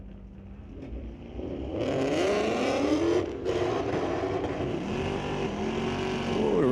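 Roush Mustang and Corvette accelerating hard down a drag strip at a street-legal drag night, engines rising into a loud sustained roar with a whining pitch climbing as they pull away.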